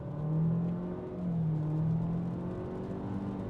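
A 2023 Renault Austral mild hybrid with a CVT accelerates hard from 0 to 100 in sport mode, its engine note a steady droning hum that swells and holds, heard from inside the cabin with no talking.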